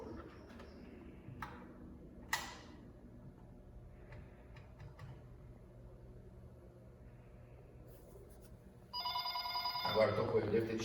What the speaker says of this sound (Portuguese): Tem que tocar o telefone lá na outra central.